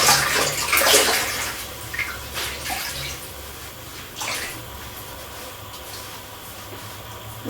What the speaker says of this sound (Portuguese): o primeiro passo para a pintura será molhar o tecido. Para isso, podemos utilizar um borrifador ou molhar diretamente na água.